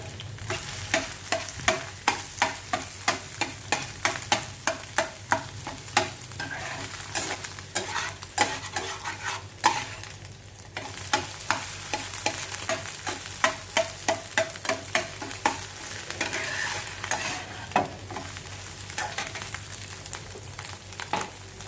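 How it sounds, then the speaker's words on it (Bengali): Egg for fried rice is scrambled in a sizzling frying pan, with a steady crackling fry under rapid, rhythmic scraping and stirring strokes of a utensil against the pan, close and continuous without talk. "ডিম ফাটিয়ে দিলাম, এটা একটু স্ক্র্যাম্বল টাইপের করে দিচ্ছি।"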